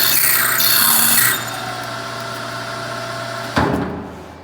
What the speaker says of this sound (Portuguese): usar uma broca para executar uma furação